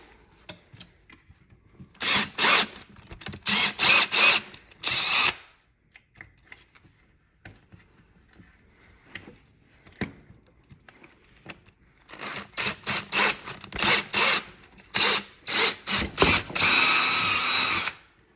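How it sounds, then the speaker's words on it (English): A power drill whines in loud, short bursts, drilling 7/16-inch holes in a Ski-Doo Pilot 6.9 snowmobile ski, stopping and starting repeatedly, with longer continuous drilling toward the end and quiet pauses between. "now the front, we drill out to 7/16."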